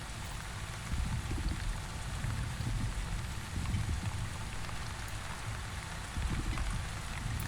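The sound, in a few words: rain in the video game The Wandering Village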